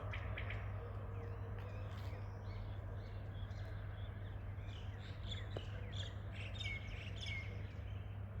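Faint birdsong outdoors in a park square near the Registan, Samarkand, scattered chirps and tweets over a steady low hum, distant and soft throughout with no speech.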